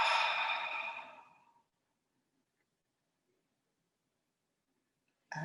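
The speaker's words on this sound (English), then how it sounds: "Deep breath in, long, slow breath out." A long, slow exhale during yoga breathing rushes out close and breathy, fading over a second and a half into near silence before another breath starts at the very end.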